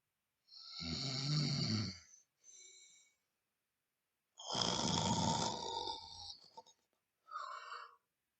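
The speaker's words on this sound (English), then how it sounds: "fell asleep, and began to snore very loudly" Loud snoring in two long rasping breaths with short snorting pauses between them, close and with no talking.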